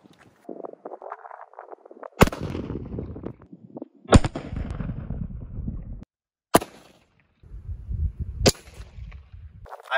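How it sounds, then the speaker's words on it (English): .45 ACP 230-grain full metal jacket rounds fired from a 1911 pistol outdoors, four sharp, loud gunshots spaced about two seconds apart, each followed by a ringing decay, with low rumbling noise between shots. "45 ACP, 230 grain full metal jacket out of this 1911."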